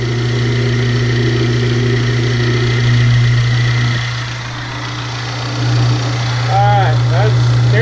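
A small hydraulic press pump runs under load, a steady electric motor hum with a strong low drone that dips and swells slightly as pressing begins; a voice speaks over it.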